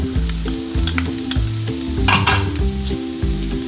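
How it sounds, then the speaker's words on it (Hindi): Onions fry in a pan with a steady, close sizzle and scraping stirring strokes, all under continuous background music. "देखिए मेरी प्याज को भूनते हुए 1 मिनट हो गया है।"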